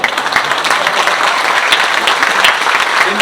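Audience applause breaks out during a Washington DC transit agency leader's speech on regional transportation: a dense, steady wash of many hands clapping, fairly loud and sustained throughout, with no talking over it.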